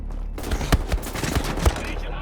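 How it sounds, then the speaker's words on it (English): Rockets fire in quick succession in a video game, a dense run of punchy thuds and blasts layered close together, with a voice talking beneath them. "Just shoot rockets back."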